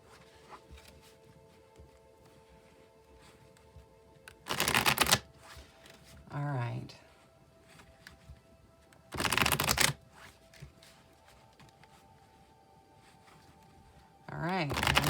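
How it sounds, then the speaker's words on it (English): A tarot deck is riffled in three quick, crisp bursts spaced several seconds apart, with softer card handling and a brief spoken word in between, all close and fairly quiet. "Now, I'll shuffle until I feel the deck is just about ready."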